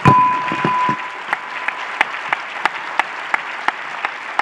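Audience applause opens loudly, then thins quickly into a few scattered, evenly spaced claps trailing off.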